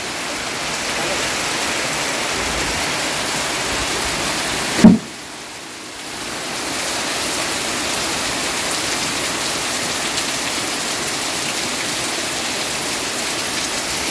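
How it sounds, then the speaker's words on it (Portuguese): Heavy rain pours steadily outdoors in a dense, continuous wash, broken by a brief thump and a few seconds of quieter sound before the downpour returns at full strength. "Olha a chuva"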